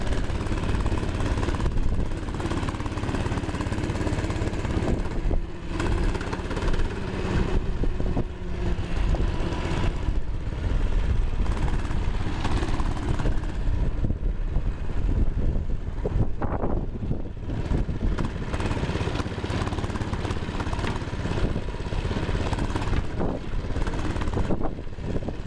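A Baja Blitz Doodle Bug mini bike engine runs continuously while being ridden around a small backyard track, a loud, steady buzzing drone with wind noise and no talk.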